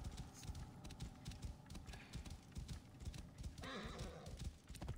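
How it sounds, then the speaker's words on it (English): Hooves clip-clop steadily from a horse in a video game, with a whinny rising near the end, faint and mixed with light keyboard clicks. "Why you sound like that, horse?"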